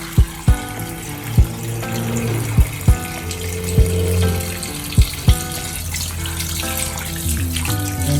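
Cassava being washed under a running kitchen tap, a steady stream of water with sharp intermittent knocks and clunks as the pieces are handled, close by, with no voices.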